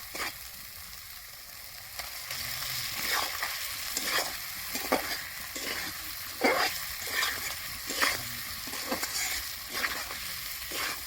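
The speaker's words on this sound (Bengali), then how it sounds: "আমার মশলাটা ভাজানো হয়ে গেছে, এখন আমি ডিম দিয়ে দেবো।" Eggs sizzle and fry in a pan over already-fried ground spices, a steady hiss broken by repeated scraping stirs at a close, moderate level with no talk.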